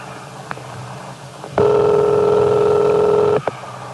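A steady electronic telephone ring sounds for about two seconds, loud and close, with quiet room noise before and after.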